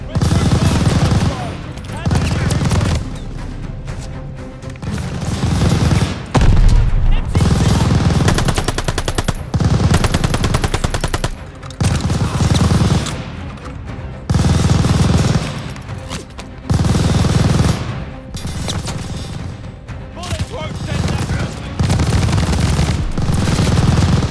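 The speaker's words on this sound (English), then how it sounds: "Machine gun! Hit the tower gunner! Hitting the MG!" Call of Duty Vanguard gameplay: sustained machine gun fire in repeated long bursts with short pauses between, loud and close, mixed with battle noise and shouted voices.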